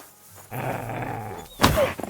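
A dog growls in the medieval role-playing game Kingdom Come: Deliverance II, a low sustained snarl up close, followed by a sharp thud and short scuffling noises.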